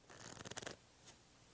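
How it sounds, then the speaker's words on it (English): A deck of playing cards is shuffled in a quick, fluttering riffle of rapid crisp snaps lasting under a second, followed by one soft tap, close and fairly quiet. "if we shuffle one more time"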